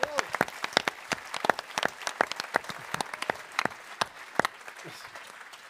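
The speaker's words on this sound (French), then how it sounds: "je pense qu'on peut applaudir" A small audience claps, scattered and uneven at first, with individual hand claps standing out close by and faint voices underneath.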